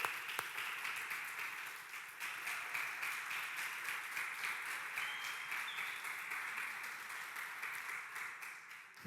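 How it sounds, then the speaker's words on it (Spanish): Congregation at a general church meeting applauds to welcome a mother and son, steady dense clapping throughout, moderately distant and even in loudness, with no talk over it. "Los recibimos con un aplauso."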